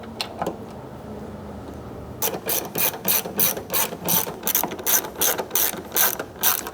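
A hand ratchet clicks rapidly in repeated short bursts while tightening bolts on a Toyota HiLux N80 side mirror mount, close and clear with no talking.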